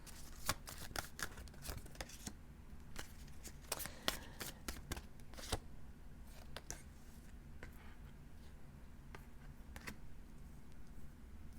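A deck of tarot cards being shuffled by hand, heard as faint, quiet riffling and crisp card snaps in irregular clusters over a low steady background hum.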